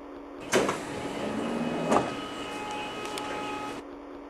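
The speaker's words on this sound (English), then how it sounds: "Doors are closing." Simulated doors slide shut on a C751B metro train stopped at a station between Jurong East and Buona Vista in the openBVE game, with a steady warning tone and two soft thumps as the doors move and close.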